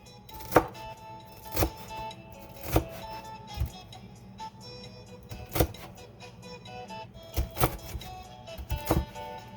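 A knife slices through watermelon rind on a board with sharp, crisp chops that come in an irregular rhythm of roughly ten close, distinct strikes separated by quieter handling.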